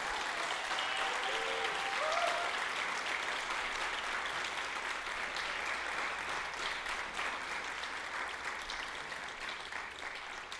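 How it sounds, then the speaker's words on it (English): An audience at a Girls Ministries and Royal Rangers honor celebration applauds Commander Herb, a long, sustained round of steady clapping from a sizable crowd, moderately distant and even, slowly fading toward the end. "Let's give Commander Herb a round of applause"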